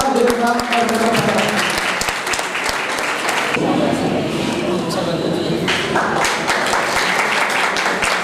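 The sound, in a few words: audience applause welcoming guest to stage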